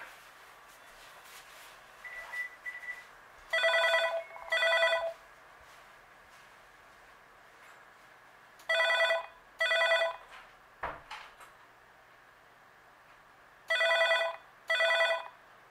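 A Panasonic KX-TG4011 cordless phone rings in paired electronic trill bursts repeating about every five seconds, with a faint beep and soft handling sounds in between, close and clear.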